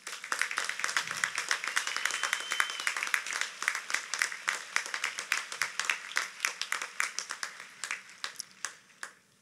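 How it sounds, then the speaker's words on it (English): A stadium crowd at a high school graduation claps for the school, teachers and staff, starting as dense applause and thinning into scattered individual claps that fade toward the end. "give one massive round of applause to the school, the teachers, the administrators,"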